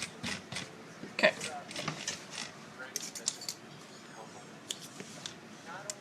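Scissors snip repeatedly through fabric while sewing a zippered outer pocket on a bag, a series of sharp, close clicks with quiet handling noise between cuts.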